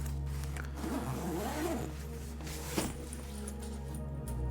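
The zippered pocket of a JuJuBe bag is pulled open in one long, steady, close-range rasp of zipper teeth over a constant low hum, and a small click is heard near the end.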